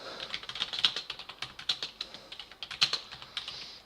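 Rapid, uneven clicking of keys on a computer keyboard, close and clear, with quick taps in bursts and no voices.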